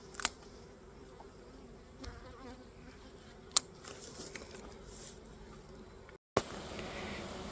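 Bees buzzing around a beehive near a chicken waterer filled with sugar syrup, a low, steady hum with a few sharp knocks and one brief dropout.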